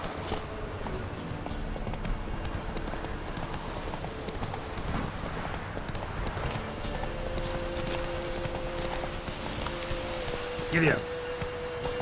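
Roach the horse trots in The Witcher 3, producing steady rhythmic hoofbeats over a constant outdoor ambience, with a spoken line near the end.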